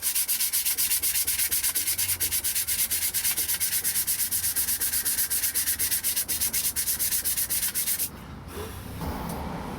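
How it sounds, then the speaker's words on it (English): Sandpaper rubs steadily across a homemade budget guitar body in quick, even back-and-forth strokes, loud and close, then stops and leaves a brief softer scraping. "And now it's all nice and dry, so let's get this sanded off."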